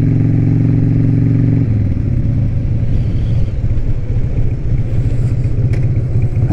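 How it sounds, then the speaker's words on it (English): Harley-Davidson Sportster 1200 motorcycle engine running steadily while riding, a loud continuous low rumble close to the mic, with a lower idle-like drone early that shifts into a busier ride note. "it's a great day riding a Sportster"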